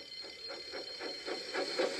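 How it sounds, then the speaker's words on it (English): An alarm rings during a Thomas the Tank Engine story, a faint rapid pulsing bell-like ringing that repeats steadily for a couple of seconds. "Soon came the alarm."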